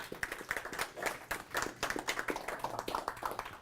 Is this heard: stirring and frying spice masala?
no